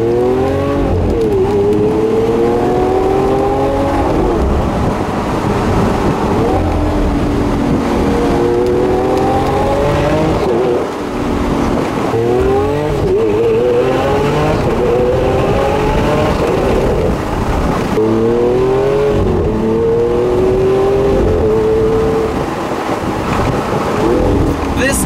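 Lamborghini Aventador supercar with a single-clutch gearbox driven hard on mountain roads, its loud engine roaring and revving up through the gears in repeated rising pulls with brief dips at each shift, continuous and close throughout.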